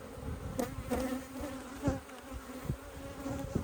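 Steady buzzing of honeybees close by at a hive, a continuous drone with occasional louder passes as individual bees fly near.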